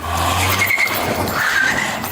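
A car speeds away during a roadside police stop, a loud steady engine roar with tire noise and a brief squealing tone, continuous over about two seconds with no clear speech.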